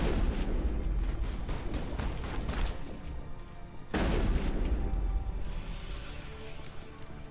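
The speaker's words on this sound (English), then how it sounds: "this shotgun just tears through people" Shotgun blasts in the Mass Effect video game, two heavy booming shots roughly four seconds apart, each followed by a long rumbling tail amid dense battle noise.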